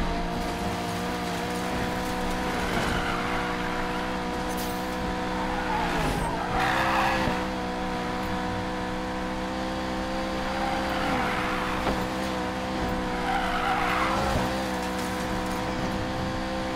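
Car drifting in Need for Speed Payback, a steady engine drone with long sustained tire squeal swelling in waves as the car slides, loud and continuous with no talk.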